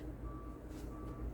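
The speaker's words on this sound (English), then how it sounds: "if you hear a faint beeping in the background" Faint, distant electronic beeps from a reversing construction vehicle outside, repeating at a steady interval, over low background rumble.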